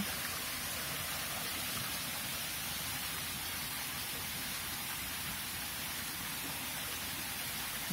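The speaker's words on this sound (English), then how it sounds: "Yeah, very small stream." Water flows in a steady, even rush, a very small stream in the Yorkshire Dales running continuously with no other sounds.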